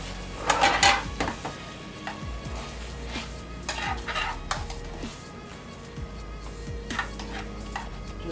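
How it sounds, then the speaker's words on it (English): Butter is stirred into a chicken Masala wine sauce in a pan, with soft scraping and clinks of the utensil against the pan over a faint sizzle, in irregular bursts. "I'm going to gently stir the butter into the sauce to finish the dish"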